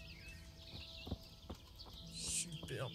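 Horse hooves in Kingdom Come: Deliverance clip-clop at a steady walking pace, fairly close, with a faint bird chirp and soft ambient noise behind them.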